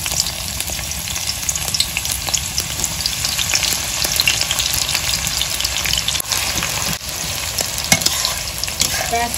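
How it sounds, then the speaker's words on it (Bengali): Chopped onion with garlic, onion and dried red chilli pastes frying in hot oil for a chicken bhuna khichuri, a steady close crackling sizzle with scraping stirs throughout, no talk. "পেঁয়াজ কুচি এখন দিয়ে দেবে তেলের ভিতরে"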